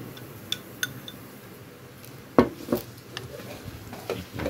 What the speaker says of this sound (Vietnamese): Đảo đều cho cái gia vị nó thấm vô cái lòng nha cả nhà.